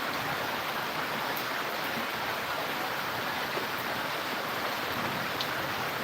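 Heavy rain driven by strong monsoon wind pours down in a constant, loud, broadband hiss with no breaks or voices, steady from start to finish.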